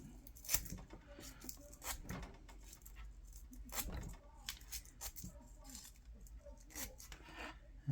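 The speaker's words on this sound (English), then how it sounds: "hit this wire just a little bit lightly with this emery and see if we can get that rust off there" Emery cloth scrubbing the rusty wire on a vintage Ocean City Nile baitcaster reel, giving repeated close, dry rasping strokes in an irregular rhythm, with light handling clicks between them.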